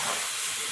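Fish curry with elephant foot yam fries in a pan, giving a steady loud sizzling hiss over a brief moment.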